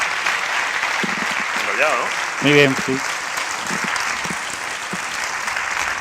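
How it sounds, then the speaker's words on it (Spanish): Audience applause at a popular science talk event in Valladolid, steady clapping throughout while someone speaks Spanish over it in the middle. "Un fuerte aplauso."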